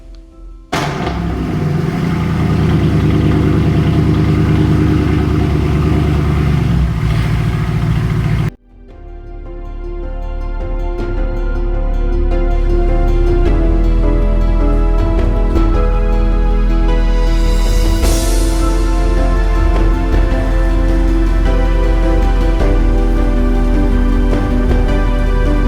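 A Mercedes C63 AMG 507 Edition with a suspected head gasket problem is cold started: a loud burst and hum, a brief drop, then the engine catches and flares before settling into a loud, steady idle.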